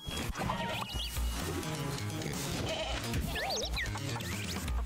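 Goats in the video game Moving Out 2 bleat in short wavering cries over busy game music and effects, several calls spread across a few seconds.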